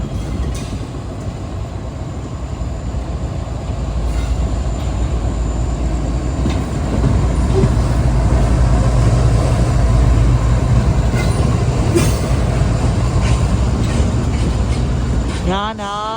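A goods train hauled by a WDC4 diesel locomotive rumbles past in Kerala, a steady loud clatter of wagons rolling by with rising intensity and a brief squeal near the end, with someone talking over it.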